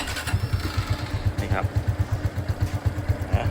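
A motorcycle engine running after a delay pump kit is fitted: a close, even, rapid pulsing idle throughout, with a brief higher mechanical whine near the middle.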